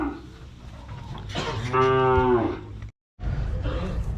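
A head of cattle gives one loud, drawn-out moo close by while being loaded for transport, over a background of rustling and handling noise that drops out briefly before resuming.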